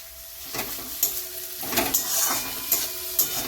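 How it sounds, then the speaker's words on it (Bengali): Ginger garlic paste hits fried onions in a pan for a spicy chicken dish, giving a steady close sizzle broken by sharp clinks and scrapes of stirring. "এবার এর মধ্যে আমি আদা রসুন বাটাটাকে এর মধ্যে দিয়ে দেবো।"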